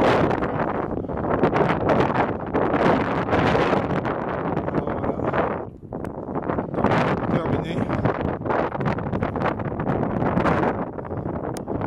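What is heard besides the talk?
strong wind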